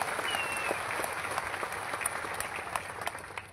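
Crowd applause at a political rally in Maharashtra, a dense, steady wash of many hands clapping at moderate distance, sustained throughout without a break.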